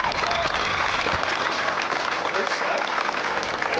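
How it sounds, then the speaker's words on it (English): An outdoor crowd at a harvest festival tractor pull gives sustained, even applause honoring the military, a dense wash of clapping that holds steady throughout with voices mixed in. "Please give a round of applause to your United States military."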